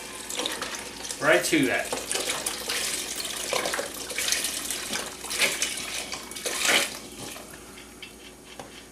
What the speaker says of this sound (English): you're going to add 2 quarts of beef stock